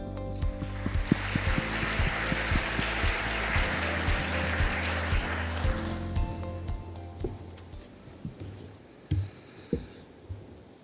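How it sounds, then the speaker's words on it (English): Warm audience applause at the East Asia Cooperation Forum welcoming a speaker, steady clapping over a droning hum before fading into a few scattered claps. "Ladies and gentlemen, please welcome him with a warm round of applause."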